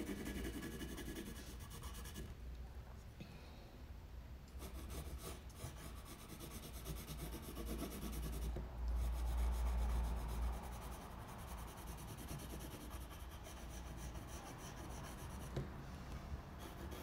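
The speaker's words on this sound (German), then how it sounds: "Ich schattiere jetzt meinen Kopf mit Stift hier" A pencil shades a drawing of a head with a soft, continuous rubbing scratch on paper. The strokes stay close and fairly quiet and run steadily throughout.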